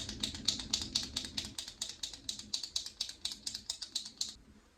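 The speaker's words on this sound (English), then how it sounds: "it's in a little pen applicator, so you can easily just click it" A makeup concealer pen applicator being clicked repeatedly, a steady run of about twenty crisp, close plastic clicks in quick succession with no talking.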